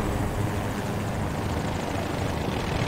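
MD540 Nightbird helicopter in Battlefield 2042, a steady loud rotor and engine roar that stays close and constant throughout, with no voices.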